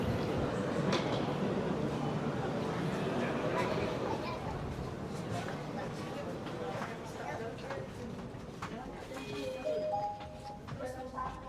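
Indonesian high-speed rail train standing at a station platform in Jakarta, with a steady low rumble and hum of rail equipment amid station bustle, footsteps and background voices throughout.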